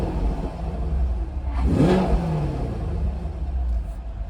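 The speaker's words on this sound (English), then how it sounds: "Let's rev it up a bit." A 2023 Chevy Camaro 1SS convertible in normal mode gives a single quick rev, the engine rising into a throaty surge and falling back to a low idle rumble.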